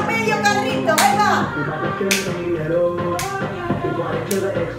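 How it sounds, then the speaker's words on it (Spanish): Children clap along in a skating class, several sharp claps spaced about a second apart, heard over a busy room with voices and music running underneath. "¿Quién se anima a aplaudir?"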